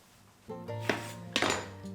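A kitchen knife cuts a lemon in half on a board, giving two sharp knocks close by with brief clatter and ringing in between and no talk.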